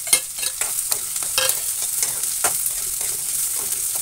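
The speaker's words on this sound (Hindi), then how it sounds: "तो अदरक लहसुन ये प्याज के साथ भी भूनता रहेगा" Onion, ginger and garlic sizzle steadily in hot oil for a vegetable Manchurian gravy, with a bright continuous fry hiss. A spoon scrapes and stirs the pan in regular close strokes.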